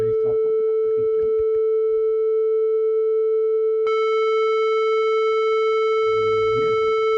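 A sustained synthesized square-wave tone holds steady, then suddenly brightens as upper harmonics bloom in when a low-pass filter opens, with short low chattering bursts at the start and end.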